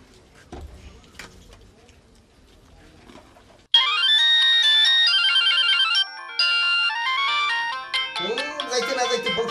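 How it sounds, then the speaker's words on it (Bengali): After a few seconds of quiet background talk, a mobile phone ringtone bursts in loudly as a bright, repeating electronic melody, continuing to the end, with a voice briefly overlapping near the close. "যাইতে না যাইতে ফোন শুরু হয়ে গেছে।"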